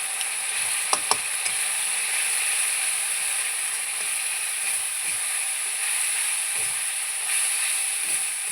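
Ground turmeric, salt, cumin, chili and coriander frying with soybean and potato in a pan: a steady, dense sizzle throughout, with a few sharp clinks of stirring near the start.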